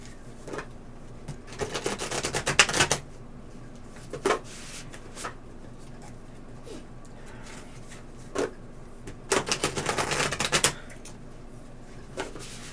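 Tarot cards being shuffled by hand: two longer bursts of dry, rapid riffling and a few short single flicks, close and fairly quiet against a low room hum.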